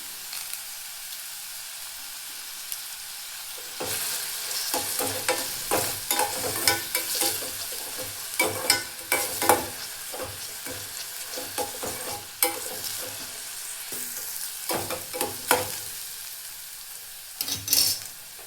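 Curry leaves crackle and sizzle in hot oil in a pan while being stirred, a dense close frying hiss with scraping stirs, beginning after a few quiet seconds and continuing steadily with brief louder bursts.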